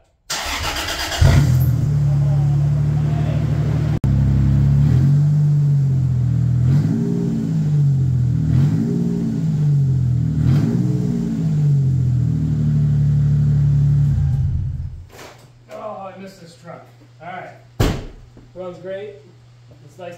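A Toyota Tacoma truck engine on a boxed frame starts and runs loudly and close by, revving in repeated swells for about fourteen seconds before cutting off, followed by quieter clanks and someone talking.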